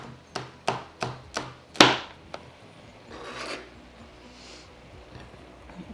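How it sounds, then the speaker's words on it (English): Knife chopping red chilli very finely on a board for pad thai: six crisp, evenly spaced chops, the last hardest, then a short soft scraping rub, close and alone. "Red chilli, very finely chopped."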